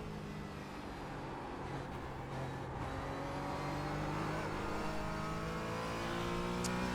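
A Porsche Cayman GT4 engine racing around Watkins Glen holds a steady, droning roar with rising harmonic pitch as it revs, continuous and fairly loud.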